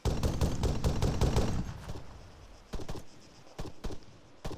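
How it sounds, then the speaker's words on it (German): Rapid gunfire in ArmA 3: dense bursts of close shots for about two seconds, then a quieter stretch with several separate sharp cracks at intervals. "Oh, ich werde beschossen."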